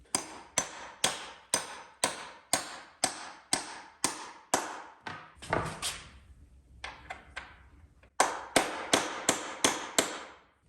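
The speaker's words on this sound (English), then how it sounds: "it'll take a hammer to go all the way through" A hammer drives a metal sleeve through two stacked 2x4s during a chicken tractor build, a steady series of sharp, evenly spaced blows, then a short stretch of scraping and shuffling before the strikes resume at a quicker pace.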